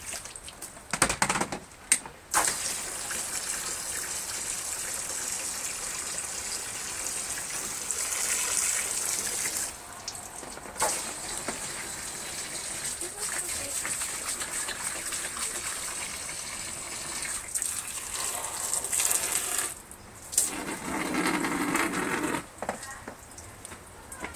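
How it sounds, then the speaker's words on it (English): Someone plays with water on a patio, making continuous splashing and gushing with bursts that rise and fall, broken by a few short pauses. The splashing sounds close by and fairly steady throughout. "Somebody's in there from patio playing with the water"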